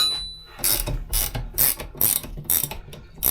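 Ratchet socket wrench clicking on a leaf spring bolt of an Isuzu pickup, a rapid series of about six sharp ratcheting strokes close up.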